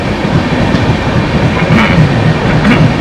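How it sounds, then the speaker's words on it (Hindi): Sealdah–Bikaner Duronto Express train rolling past at close range, a loud steady rumble of wheels on rails with rhythmic clickety-clack over the track joints throughout. "सियालदा बीकानेर दुरंतो एक्सप्रेस निकल रही है यहाँ पर"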